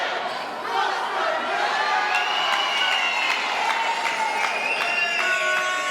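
Spectators at an indoor cricket match, the Australia versus New Zealand grand final, cheer and applaud in a loud, steady roar, with shouts and whistles rising over the crowd throughout.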